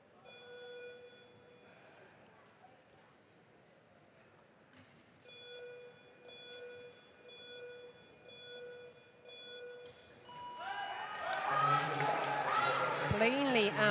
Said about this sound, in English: We'll hear those beeps from 10 seconds.